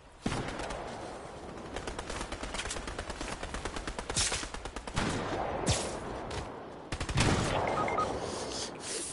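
Video game gunfire: rapid, evenly spaced automatic shots rattle for several seconds, then heavier bursts and a sharp loud volley near the end, with no voices.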